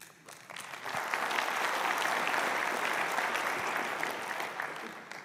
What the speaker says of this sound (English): Wow, I get an applause before I even started.